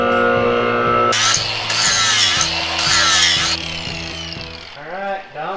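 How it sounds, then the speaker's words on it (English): A power tool grinds out worn car brake parts, loud harsh whining and scraping in sustained bursts that shift in pitch as pressure changes, trailing off into a winding-down whir at the end. "We'll raise it up, grind them out."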